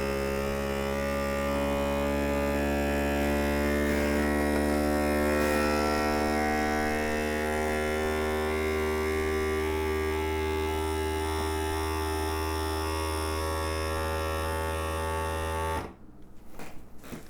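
Steady droning hum of a vacuum sealer pump pulling air from a jar of dry goods, continuous and even for a long stretch before cutting off abruptly near the end.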